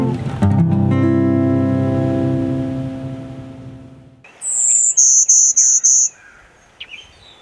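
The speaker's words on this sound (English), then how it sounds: "So the golden-winged warbler is a small little bird." A golden-winged warbler in northern Michigan habitat sings a high, buzzy run of four or five quick notes after sustained tones fade out, followed by a few faint chirps.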